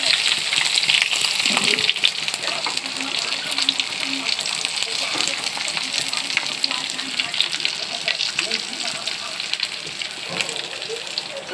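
Bottle gourd leaf fritters stuffed with dried fish paste crackle and sizzle steadily in hot oil, a dense broadband hiss with occasional pops and watery splutters running throughout, close by with no talk.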